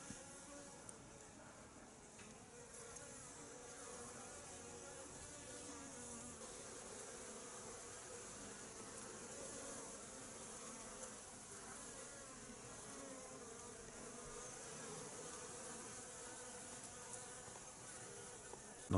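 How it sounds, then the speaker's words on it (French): Honey bees buzz steadily around a hive in winter, a dense, continuous drone of many insects that stays even throughout. "On voit que les abeilles ramènent un peu du pollen."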